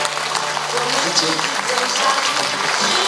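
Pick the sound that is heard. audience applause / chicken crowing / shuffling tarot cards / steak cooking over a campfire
audience applause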